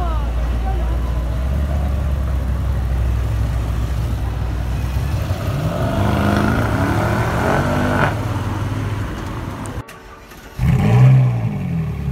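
Lexus LC500H car passing on a Paris street, a loud engine and road rumble that swells and fades over several seconds, with city traffic noise around it.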